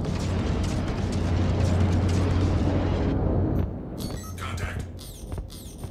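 A Firebird missile launching and striking an enemy ship in Star Citizen: a sustained heavy rumbling blast with a low drone that cuts off abruptly, followed by scattered metallic pops and crackling impact bursts.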